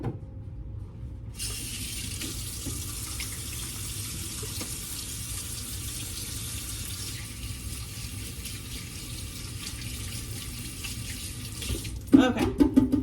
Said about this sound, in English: now let me wash my hands real quick here